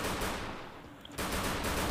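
Gunfire in the mobile battle-royale game Free Fire, a dense burst of rapid shots filling the whole clip with a short lull partway through, loud and close with no talk.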